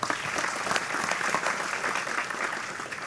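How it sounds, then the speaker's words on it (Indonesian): A large audience applauding at an Indonesian religious and cultural gathering, loud dense clapping sustained for about three seconds without speech over it. "Tepuk tangan untuk kita semua."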